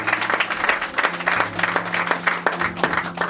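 A church congregation clapping loudly in rhythmic bursts, a steady crowd of hands applauding close by.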